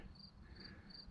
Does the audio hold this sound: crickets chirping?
yes